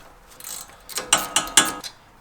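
A ratchet clicks as it loosens a 12 mm bolt holding a front brake line on a 2016-or-later Toyota Tacoma, a few soft clicks followed by four louder, sharper ratcheting bursts, close up with no talking.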